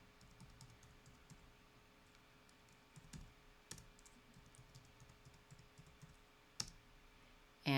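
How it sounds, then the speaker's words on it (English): A password is typed on a computer keyboard in faint, sparse key clicks spread over a quiet room hum, with a couple of sharper taps and a louder clatter at the very end. "I'm going to type in a password."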